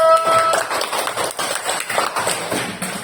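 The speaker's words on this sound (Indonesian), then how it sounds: "Tepuk tangan untuk kelompok 1." Classroom of students clapping for a group after their experiment presentation, a brisk patter of many hands close by that runs unevenly for a few seconds and then thins out.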